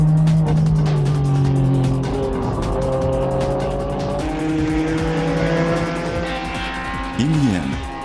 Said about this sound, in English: Following right behind was the NSX-based racing car, the ADAC GT.